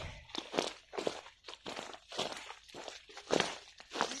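Footsteps crunch over dry bark and fallen branches in Australian bush, a steady walking rhythm of close, crisp crackling steps with no talk.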